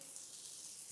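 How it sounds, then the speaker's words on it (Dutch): Boemboe spice paste frying in a hot pan, a faint, steady high sizzle and hiss without talk. "Dus echt wel 5 minuten zeker mag je de boemboe bakken"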